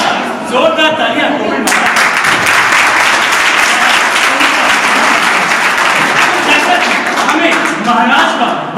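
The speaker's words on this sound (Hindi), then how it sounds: "जोरदार तालियां।" Loud, dense applause from a large audience at a special program event, continuous and strong for several seconds, with voices audible beneath it.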